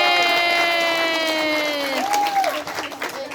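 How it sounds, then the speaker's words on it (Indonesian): Women at a neighbourhood Maulid Nabi gathering applaud and cheer, clapping and cheering rising under a sustained sung or held voice, growing more scattered toward the end. "tepuk tangan buat ibu-ibu"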